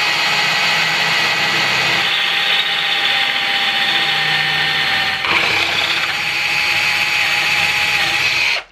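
A Kaltmann Titanium cordless hammer drill bores with a 12 mm bit, a steady high motor whine with a strained grinding texture that shifts pitch briefly midway, then cuts off at the end.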